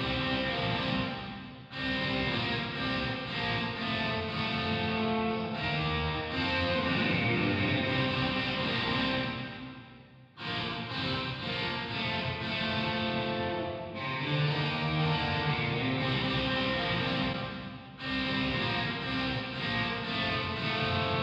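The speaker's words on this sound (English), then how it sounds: "So this way we can turn the volume of the guitar down and you'll just hear the reverb." Washed-out, reverberant guitar chords swell and sustain with a diffuse, echoing wash, pausing briefly between phrases before ringing out again.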